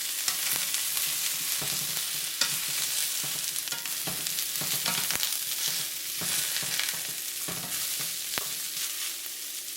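Shiitake mushrooms, asparagus and carrots being stir-fried in a pan for noodles, a steady sizzle broken by repeated scraping and stirring strokes of a utensil, close and continuous.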